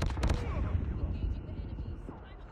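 Rapid gunfire in a Call of Duty Mobile battle royale match, a burst of sharp shots at the start that gives way to dense, rattling game noise with a voice faintly under it.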